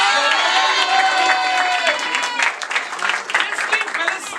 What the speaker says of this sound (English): Roll applause, everyone.